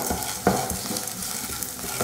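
Chana dal, onion, ginger and garlic sauté in a pan, giving a continuous crackling sizzle with occasional stirring scrapes and a soft knock, fairly close and steady.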